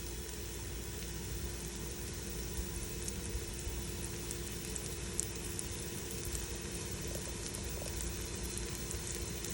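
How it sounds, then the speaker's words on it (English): Ingredients sizzling in hot ghee in a pan on medium heat, a soft, steady crackling fizz close by and without speech. "It's kind of sizzling."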